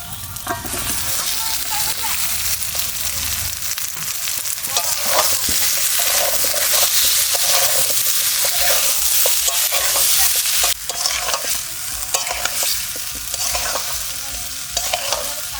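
Fried jackfruit and potato are stirred into a sizzling spice paste with green chilli, a loud close frying hiss with frequent scraping stirs throughout and no voices.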